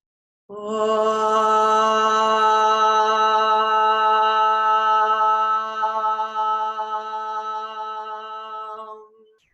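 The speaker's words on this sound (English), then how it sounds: "Let's open with the Om sound" A single voice holds a long, steady Om chant that opens a yoga session, a clear, rich hum sustained for about nine seconds, loud and close, then fading out.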